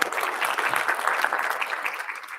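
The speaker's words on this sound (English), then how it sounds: "huge round of applause for them." Audience applause at a temple annual meeting, a steady dense wash of clapping from a seated crowd that fills the short stretch without pause.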